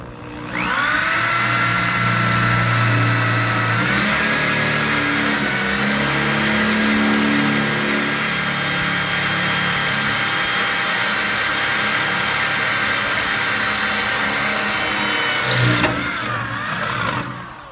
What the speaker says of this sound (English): We're going to drill.